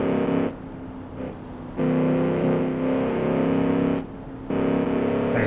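A turbocharged sports car engine in BeamNG Drive revs hard in loud, sustained bursts, with pitch climbing quickly at high revs, then dropping off between pulls before surging again.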